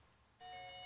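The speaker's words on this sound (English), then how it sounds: "the different ringtones that you have access to" A short electronic ringtone from a Diggro DI03 smart watch starts abruptly, a steady high beeping tone heard alone and close for the last half second.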